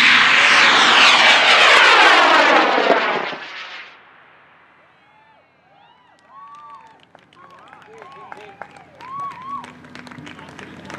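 A Tintin moon model rocket launches with a loud, roaring rush of motor thrust that fades after about four seconds, leaving quiet outdoor ambience with faint bird chirps and distant voices.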